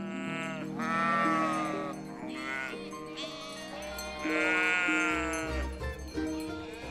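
Sheep on a farm bleat several times in loud, wavering calls close by, one after another with brief gaps and no talking.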